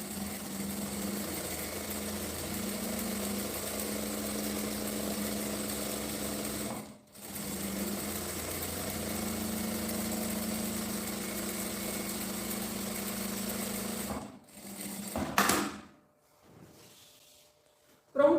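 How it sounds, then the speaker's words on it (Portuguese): A sewing machine stitches a seam along a fabric strap for a small phone bag, a close steady motor whir running for long stretches, with brief pauses between runs before stopping near the end. "Eu vou fazer mais uma costura aqui no meio."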